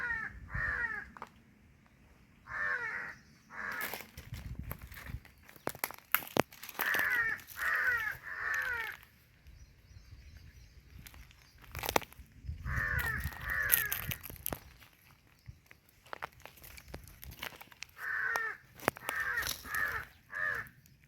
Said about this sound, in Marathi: हा कावळ्याचा पिल्लू आम्हाला इथे सापडलेला होता।